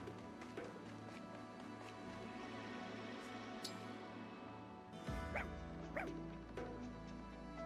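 A few short dog barks and yips from the video game Fire Emblem Engage, quiet and scattered over soft game music and ambient tones, with a cluster of brighter yelps near the end.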